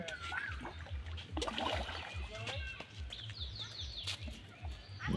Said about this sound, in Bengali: ধারে মানুষ আসলে এইভাবে নড়াচড়া করে মাছে।